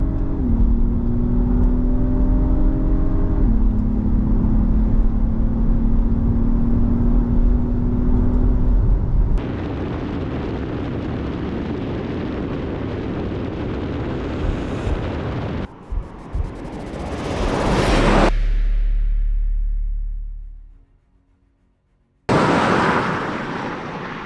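Audi Q7, Acura MDX and Volvo XC90 SUVs accelerating hard in a drag race, engine and road noise rising through gear shifts, then wind buffeting and a sudden drop before the roar resumes, with no talking.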